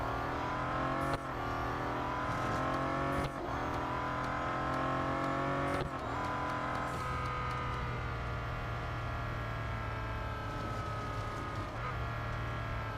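Race car engine in Real Racing 3, a Bentley Continental GT Speed, droning steadily with rising and falling gear pitches and a few sharp shift breaks, continuous and mid-loud with no talking.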